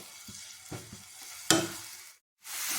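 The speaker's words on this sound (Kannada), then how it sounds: "ಅದಕ್ಕೆ ಈಗ ತಾನೇ ತುರಿದಿರೋ ಆ್ಯಪಲ್ ಆದರೂ ಕೂಡ ಕೆಂಪಾಗಿದೆ, ಅದನ್ನು ಹಾಕ್ಕೊಂಡು ಸ್ವಲ್ಪ ಹುರಿತೀನಿ" Freshly grated apple frying in ghee gives a steady close sizzle, broken by a few soft stirring scrapes and a sharp clink partway through, then a brief pause before the sizzle comes back.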